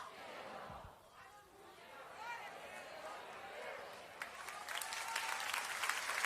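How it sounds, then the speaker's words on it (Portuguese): Crowd applause rises gradually in a church service, with voices and cheering mixed in, swelling louder toward the end in a large room. "Misture essas palmas com glória a Deus e aleluia!"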